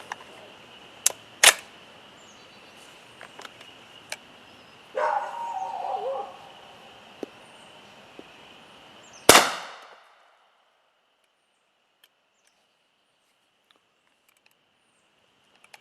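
A Hi Point pistol firing cast bullets from a magazine: a few sharp, separated reports, one louder shot near the end ringing out briefly before the recording falls silent.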